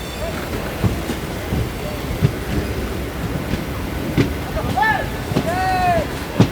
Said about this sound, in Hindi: यहाँ पे आमला जंक्शन पे अपनी ट्रेन अराइव करती हुई